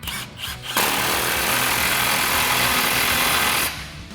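An impact wrench with a 15mm socket tightens an exhaust clamp near the muffler of a RAM 1500, giving one loud, continuous buzzing whir of about three seconds after a brief pause, with no talking.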